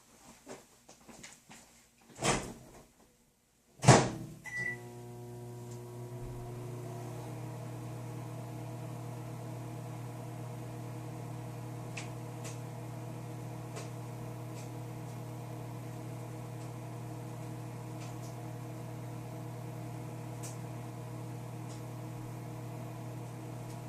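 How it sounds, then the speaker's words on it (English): A few clicks and beeps, then a microwave oven starts heating a rice bag and hums steadily, a constant low drone that runs on without change. "So put it in the microwave for 20 seconds."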